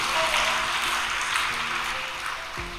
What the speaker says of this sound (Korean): 열심히 철야정성을 참여하고 있는 이 해남교회가 더 발전하도록 큰 박수 한번